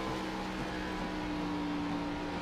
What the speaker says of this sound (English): Downshifting we hear is Michael Thorpe.